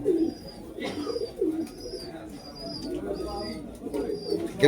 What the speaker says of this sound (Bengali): বেনারস কবুতর।